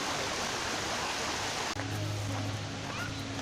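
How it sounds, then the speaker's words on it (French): Small cascade of water tumbling in the gardens of Jardins d'Annevoie, a steady broadband rushing that holds throughout, slightly shifting in tone midway, with no talk over it. "Une jolie petite cascade."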